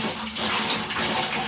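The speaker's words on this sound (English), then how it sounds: "we'll just keep using the sponge in the same way here now until we get all of the water out of the back of the tank" A sponge is used to soak water out of the back tank of a toilet being removed, giving a steady, close wash of splashing, trickling water with no talk.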